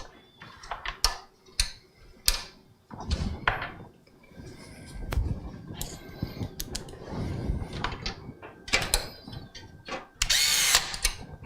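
A power driver sets screws into a Lian Li Lancool II PC case during a computer build, giving short repeated whirring bursts mixed with clicks and rattles of metal parts, close and fairly loud.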